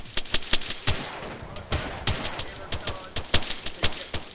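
Irregular shotgun blasts in the military game Arma, a dozen or more sharp reports of varying loudness in an uneven rhythm, some close and punchy, others softer, with faint voices underneath.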